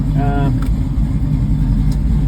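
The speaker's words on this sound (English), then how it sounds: "so that's got the engine sound, guys." A Chevy Nova's LS V8 engine rumbles steadily up close, a loud low drone with a brief rising tone near the start.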